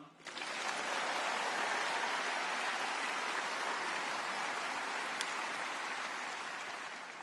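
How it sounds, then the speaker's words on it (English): Sustained crowd applause fills the hall at a Sydney Jewish community gathering addressed by Israel's president, building quickly to a thick, even roar of clapping that tapers only slightly near the close. "keep the applause coming for his wonderful wife,"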